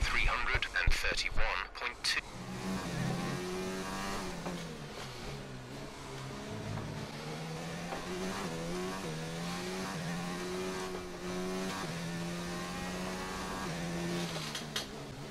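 A Formula 1 car in the racing game F1 2019 leaves the pits during qualifying at the Brazilian circuit, its engine whining and revving through rising gear changes, near and fairly loud, with someone commentating over it.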